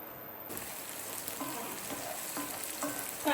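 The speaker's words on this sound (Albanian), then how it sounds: "në temperaturë mesatare I përgojmë perimet derisa të zbuten mirë" Mixed vegetables sizzle in a pan over medium heat while being stirred, a steady close frying hiss broken by soft scraping strokes of the spoon, with no talking.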